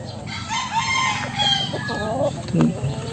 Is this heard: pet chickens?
yes